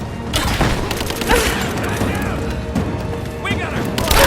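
Rapid bursts of gunfire and heavy impacts crackle through a combat firefight in Rise of the Tomb Raider, loud and close, with shots clustering irregularly and a voice speaking briefly amid the shooting.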